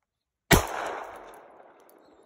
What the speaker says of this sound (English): It's really cool shooting 9mm out of a revolver.